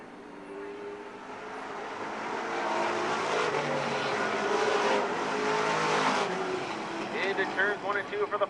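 Race cars roaring around an oval track on the final lap of a U.R.S. race, a dense engine drone swelling as the pack passes, with excited commentary running over it throughout.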